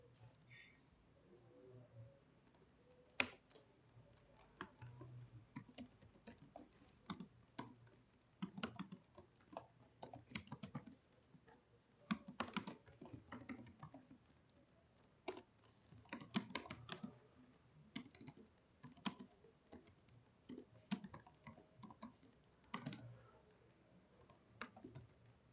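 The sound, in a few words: typing Python code on a computer keyboard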